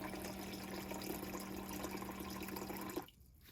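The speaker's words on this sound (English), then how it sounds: "it will dispense 150 milliliters of water" Fresh water runs steadily from a dispenser in a Chevy Express camper van, a continuous close pour that stops abruptly near the end.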